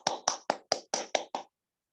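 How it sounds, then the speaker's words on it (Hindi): Seven sharp, evenly spaced claps at a business presentation award moment, close and distinct, then silence; sounds like a single pair of hands rather than a full audience. "इसके लिए तो तालियां लगता है ना"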